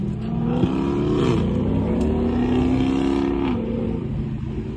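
A car engine with stock exhaust revs up and down a few times at night, the throaty pitch climbing and falling in smooth sweeps, fairly close and with no talking.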